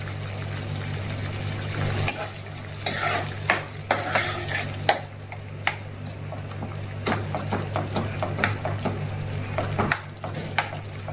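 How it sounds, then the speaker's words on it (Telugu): Smashed tomatoes cooking in oil for a raw mango and tomato pickle, a soft continuous sizzle under repeated scraping and clinking of a spoon stirring against the pan in an irregular rhythm. "స్మాష్ చేసేసిన తర్వాత కొద్దిసేపు ఈ నూనెలో ఉడికించాలన్నమాట"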